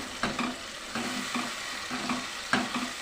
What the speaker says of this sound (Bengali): একটুখানি নেড়ে চেড়ে নিচ্ছি